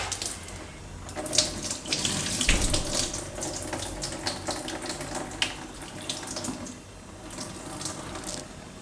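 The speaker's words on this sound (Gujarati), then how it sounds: "તો આ રીતે પાણી નાખી પલાળવાના નથી, ખાલી ધોવાના છે એમ." Water runs from a tap as flattened rice (poha) is rinsed in a bowl, a continuous close splashing and trickling with brief louder gushes.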